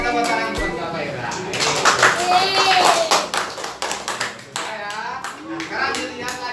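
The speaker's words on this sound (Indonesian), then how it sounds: "tepuk tangan buat Bapak Ira" A classroom group gives a burst of hand clapping in applause for a teacher, mixed with children's voices and chatter over the clapping.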